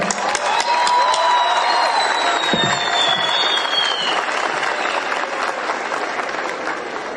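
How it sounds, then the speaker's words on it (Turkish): Graduation ceremony audience applauding the graduates' parents at a university, a loud, dense wash of clapping that holds steady throughout with faint cheering and stray voices mixed in. "Anne babalarınızdan söz ediyorum. Onları alkışlıyoruz hep beraber."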